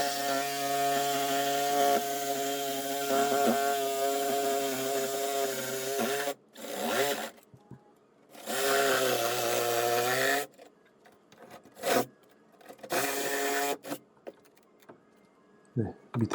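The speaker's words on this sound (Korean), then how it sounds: "밑에 하나 더 나무를 다 잘라서 구멍을 내줍니다" A reciprocating saw cutting holes through wooden studs during a bathroom renovation, giving a loud sustained buzzing whine in several bursts separated by pauses, with short knocks and handling noises in the gaps.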